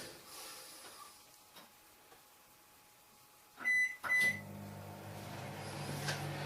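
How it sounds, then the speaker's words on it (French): A microwave oven softening butter for a chocolate cake gives a couple of loud electronic beeps, then settles into a steady low running hum, with quiet kitchen background beforehand. "on va le mettre dans le micro-ondes pour le"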